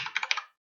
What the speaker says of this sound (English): I will need a text, and I will need to type